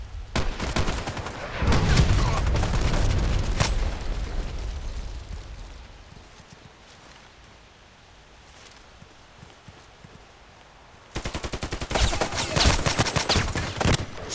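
Bursts of rapid automatic gunfire in the shooter game Contract Wars: a loud rattling volley at the start, a quieter lull, then another sharp sustained burst near the end.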